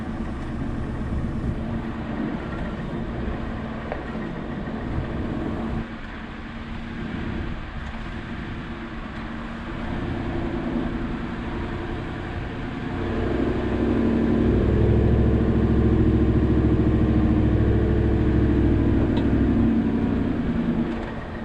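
Ford F-150 pickup truck engine working up a steep off-road hill, a steady low rumble that swells louder and heavier in the second half as the climb demands more power, with no talk over it.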